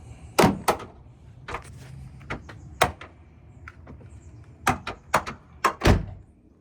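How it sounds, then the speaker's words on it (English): A Toyota Tundra door is opened and closed several times in a row, giving sharp thunks and clunks with faint creaks in between, close by and alone. "Is your door on your vehicle super squeaky when you open and close it?"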